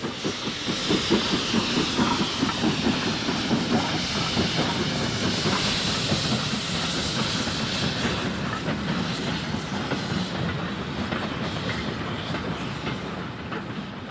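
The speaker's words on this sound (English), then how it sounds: "Passing north through the station, a B1 heads for Dundee with a mixed freight." A B1 steam locomotive hauls a mixed freight train north through a station toward Dundee, giving a steady loud roar of steam hiss, chuffing and rolling wagons with continuous clickety-clack throughout.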